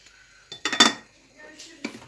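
A plate clinks and clatters as it is set down on a pot of olive-oil braised fresh green beans, a few short ceramic knocks up close, then a softer second clink.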